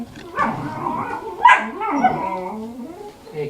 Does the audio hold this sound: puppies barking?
yes